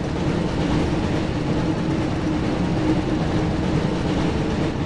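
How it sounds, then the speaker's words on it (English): The Hogwarts Express train in the PlayStation Harry Potter and the Chamber of Secrets video game rumbles continuously with a dense, steady rolling roar, close and loud throughout with no talking. "Looks like we found the train, Ron."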